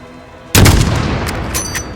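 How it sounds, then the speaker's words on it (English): Gunfire in Modern Warfare, a sudden loud blast after a quiet start, followed by a long booming, reverberating tail with a couple of further sharp reports layered in. "Those shots came from the highway!"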